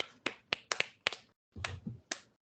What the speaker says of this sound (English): Another golfer clap.